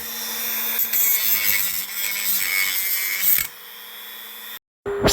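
An abrasive cutting pad on a power tool grinds through a metal bolt, a loud, harsh, continuous whine with shifting rasp for several seconds, then cuts off abruptly into near silence before a brief final burst.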